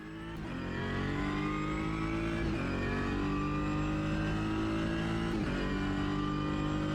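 An Alpine race car in the Automobilista 2 sim revs hard through the gears, a loud steady engine howl that climbs, dips briefly at each upshift around every two seconds, then climbs again.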